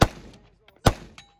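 Two sharp gunshots ring out about a second apart at a shooting match, each a loud close crack followed by a short echoing tail, with faint voices in the background.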